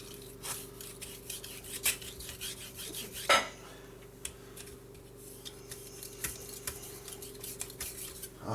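An expensive knife blade rubs and scrapes in repeated strokes across sharpening stones, with soft rasping passes and occasional clicks of metal, close and fairly quiet.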